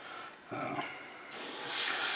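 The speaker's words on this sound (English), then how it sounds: "Just a quick spraying demonstration since it's out for you guys." A Badger Sotar airbrush sprays paint in two bursts, a brief hiss first and then a longer, louder, steady airy spray that continues to the end, with no talking.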